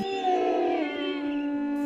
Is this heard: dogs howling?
yes